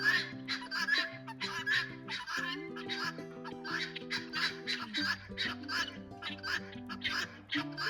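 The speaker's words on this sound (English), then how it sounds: "I just heard a guinea fowl fly over my head" A guinea fowl on a homestead gives a run of harsh, rhythmic calls passing overhead outdoors at sunset, half buried under steady music playing nearby.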